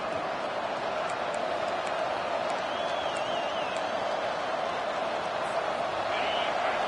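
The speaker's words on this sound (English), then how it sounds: "Decibels rising as the crowd gets behind this defense on third down." Stadium crowd at a football game on a third down just before halftime, a steady, dense roar of many voices that holds at an even loudness throughout, with faint whistle-like tones above it.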